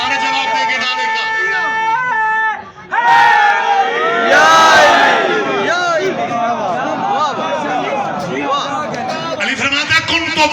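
A packed majlis gathering roars back a slogan in unison, loud massed shouting that breaks out after a brief pause and swells into a sustained cheer.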